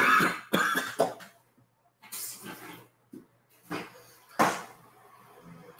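Several separate coughs from one person, close and fairly loud, come in short bursts with quiet gaps between them, and there is no talk.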